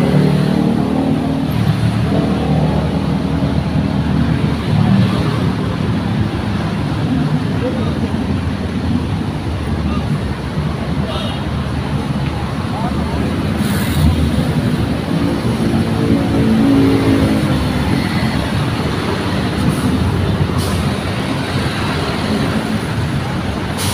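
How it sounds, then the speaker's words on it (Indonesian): A front-engine PO Haryanto bus idles and runs outside with a steady, fairly loud rumble and light traffic noise around it. People talk at times over the continuous engine drone. "Dan ternyata ini nampak suaranya dari PO Haryanto mesin depan."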